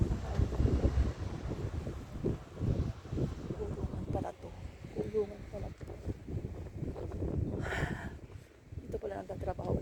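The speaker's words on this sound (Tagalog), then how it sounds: "Malamig, sobrang hangin dito." Gusty wind by the sea buffets the microphone in rough, uneven rushes, with a person talking underneath much of the time.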